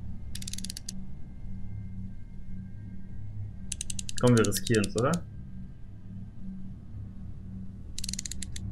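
Short metallic knife scrapes from an enemy in the VR horror game Home Sweet Home, three bursts across a low droning ambience, with someone speaking briefly in German between them.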